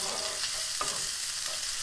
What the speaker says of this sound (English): Let that cook up, let that sizzle.